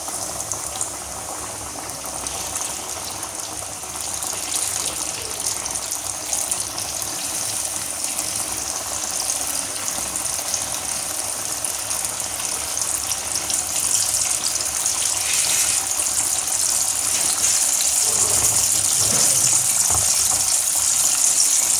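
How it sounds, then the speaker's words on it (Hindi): Chicken frying in open, deep hot oil for a Zinger burger, a steady, continuous bubbling sizzle that holds at an even level and grows slightly louder over time, with no talking. "अभी चिकन मैं इसमें डीप फ्राई करूँगी, और खुले तेल में करना चाहिए"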